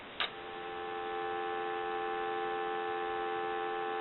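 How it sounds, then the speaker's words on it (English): A steady telephone dial tone from a repaired Pepsi Cola telephone, heard alone after a brief click, constant and unwavering for several seconds. "We'll go ahead and answer it and give you some dial tone."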